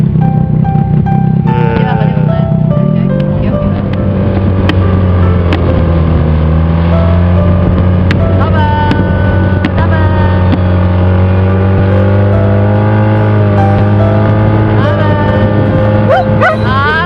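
A motor boat's engine drones loud and steady through a ride carrying a young German shepherd puppy. The puppy whines and yips intermittently over the continuous engine hum.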